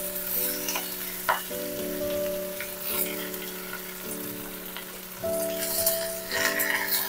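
Boiled cabbage leaves and gourd leaves frying in spiced oil with black cumin and dried red chillies give a steady close sizzle with stirring, under a sustained tonal hum.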